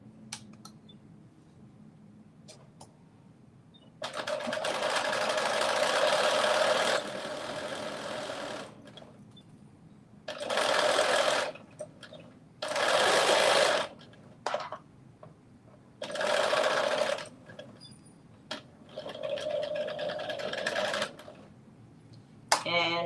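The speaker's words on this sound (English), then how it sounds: "Now I am stitching just the bottom part of these shorts." A sewing machine stitches the bottom hem of a pair of shorts, running in several loud bursts of varying length separated by short pauses, with no talk over the motor.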